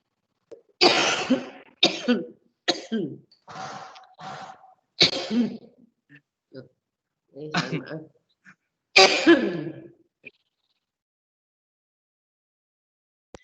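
A person coughs and clears their throat repeatedly in short bursts, with brief pauses between, close to the microphone, then silence.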